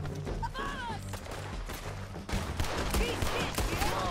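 Gunfight in Red Dead Redemption 2 with submachine gun fire: rapid rattling shots and scattered gunfire under game music and shouting characters, growing louder midway.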